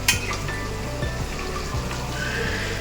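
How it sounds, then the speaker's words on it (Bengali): Fish sizzling in hot oil, a steady crackling hiss with scattered pops and a few soft thuds, close and moderately loud with no talking. "একটু ভাজা হচ্ছে"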